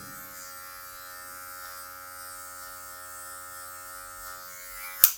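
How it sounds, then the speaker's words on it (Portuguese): An electric hair clipper trims dark patches with just its tip while fading a haircut, giving a steady close buzz throughout and ending on a sharp click. "só a pontinha da máquina tirando algumas regiões mais escuras"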